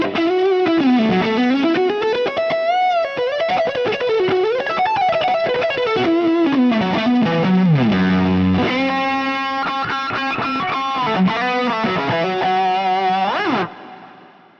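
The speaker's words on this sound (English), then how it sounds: "now we get a much tighter delay that you could really leave on for all sorts of different kinds of playing" A guitar through a Fractal Audio unit plays a fast, winding melodic line with a short, tight delay adding slight repeats and a touch of distortion, loud and continuous, ending in a sustained chord that cuts off.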